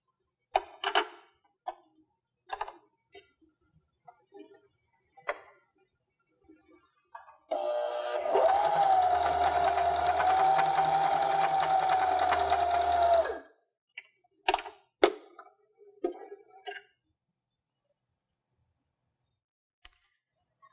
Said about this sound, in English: we'll bring it into the sewing machine like this.